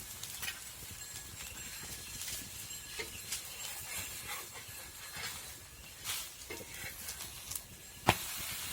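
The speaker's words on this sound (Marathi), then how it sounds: "आता मी थोडंसं तेल टाकून घेते" Oil poured around the edges of a wheat flour dhirde crackles and sizzles steadily in a pan, a faint close hiss with scattered soft pops and one sharper tap near the end, with no voices.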